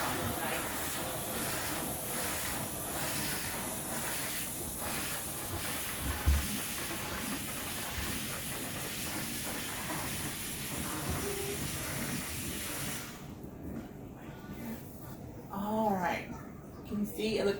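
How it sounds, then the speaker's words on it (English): A Bissell steam cleaner hisses steadily as it steams a surface during cleaning, a continuous broadband rush that runs for most of the stretch before cutting off near the end, with a voice talking over it. "So I'm just going to steam it a little bit"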